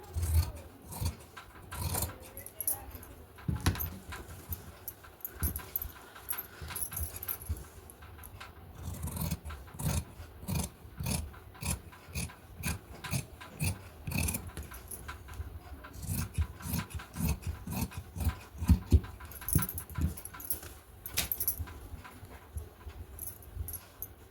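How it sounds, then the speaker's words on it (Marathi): Scissors snip through blouse fabric while cutting a deep-neck blouse's front and back pieces together, a close, irregular run of short crisp cuts and soft cloth rustles. "एकाच वेळी मी मागचा पुढचा भाग कट करून दाखवते"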